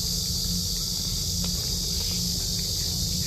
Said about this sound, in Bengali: ঝিঝি পোকারা ডাকতেছে।